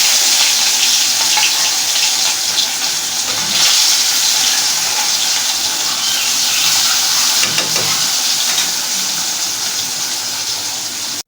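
Onions fry in hot oil until reddish, making a loud, steady, hissing sizzle close by that runs without a break, with occasional stirring bursts.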